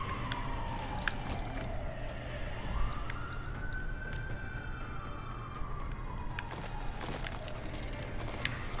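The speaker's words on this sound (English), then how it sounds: "Wow, sirens going crazy out there." A siren wails outside, its pitch sweeping slowly up and down over steady low traffic rumble, with a few faint clicks in the foreground.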